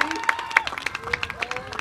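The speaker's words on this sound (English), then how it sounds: "I appreciate the applause," Audience applause at a high school graduation ceremony, brief scattered clapping with sharp individual claps, heard close and fading quickly.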